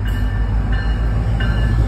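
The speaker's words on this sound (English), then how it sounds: "The Marc train pulling was a sandwich set." A MARC commuter train on the Camden line rolls past close by with a steady, loud low rumble and a high whining hum, continuous and unbroken.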